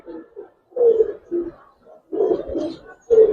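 Silver and racer pigeons coo close by in soft, repeated low phrases separated by short pauses, with no other sound around them.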